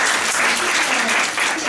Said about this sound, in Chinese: 那我们今天就热烈的掌声先欢迎诗任